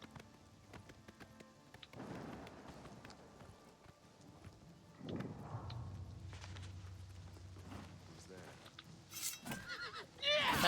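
A horse neighs and whinnies in the Oblivion Remastered video game, with clip-clopping hooves, scattered combat noises and a burst of activity near the end, all fairly close and loud.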